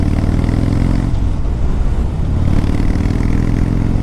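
A 2014 Harley-Davidson Dyna Low Rider on a test ride, its engine a loud, steady low rumble close by with a slight dip and rise in the middle, no talking.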